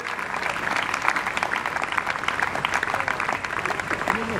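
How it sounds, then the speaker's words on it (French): A church congregation applauds for the Lord Jesus during a worship gathering, with dense, continuous clapping at a steady loud level and a few voices calling out over it. "Est-ce que nous pouvons acclamer pour le Seigneur Jésus?"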